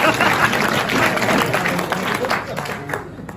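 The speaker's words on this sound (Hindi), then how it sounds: "जोरदार तालियां" Audience clapping at a business training event, a loud close burst of applause with crowd noise that gradually thins toward the end, with voices mixed in.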